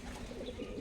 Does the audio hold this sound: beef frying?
no